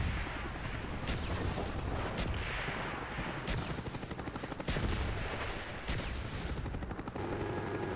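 An artillery strike and gunfire in the Call of Duty Black Ops video game: a rapid crackle of shots and heavy booming impacts rolls on continuously, dense and close.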